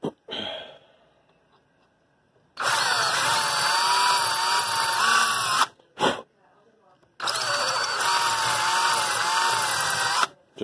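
Power wire brush scrubbing rust off the area around a steel brake line, two loud sustained whirring runs of a few seconds each separated by a brief burst and quiet pauses, close to the microphone.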